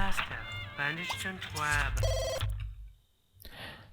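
In The Sims 2, a game telephone rings with a bright electronic trill, a short burst standing out beneath someone talking over game music before a brief near-silent pause.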